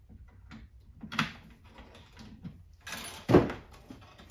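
An antique wooden campaign box with brass fittings: a few soft knocks and creaks, then a sharper wooden clunk as its door is swung open, close and quiet.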